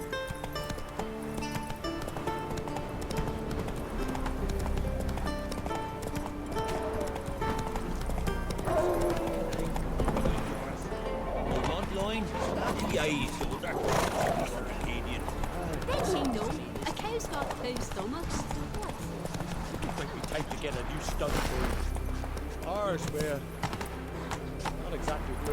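A horse gallops in The Witcher 3: Wild Hunt, its hooves beating a steady, continuous clip-clop under dense game music and a talking voice.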